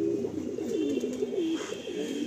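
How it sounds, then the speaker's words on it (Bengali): A female Andhra high-flying pigeon coos close by in Kolkata, giving a continuous rolling, throaty warble that rises and falls with no pauses, with no talking. "এটা হলো মাদি পায়রা।"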